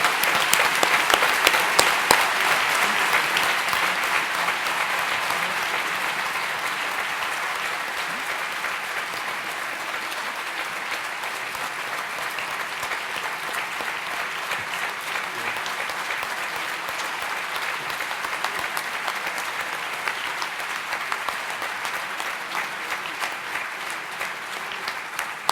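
Sustained audience applause at a scientific conference in a Pisa congress hall, loud and steady with dense clapping throughout, peaking briefly at the start and holding without speech.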